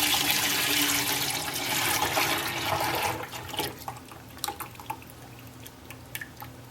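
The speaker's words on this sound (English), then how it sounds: "So now I'm going to pour this into this gel block." Melted homemade ballistic gel pours steadily into a plastic refrigerator-container mold for about three seconds, a close, continuous liquid rush that thins into scattered drips and small splashes.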